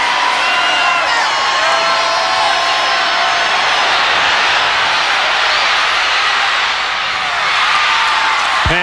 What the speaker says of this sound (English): you could hear the groan by the crowd